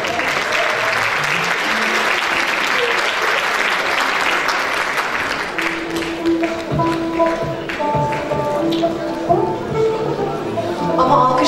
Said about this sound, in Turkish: Alkışlarınız o kadar yetersiz kaldı ki koronun sahnedekilerini almıyor.